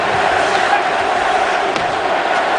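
A dense, loud crowd of hockey fans at the MCI Center in Washington roars and chants together in unison during a 1998 playoff game, a steady wall of voices throughout.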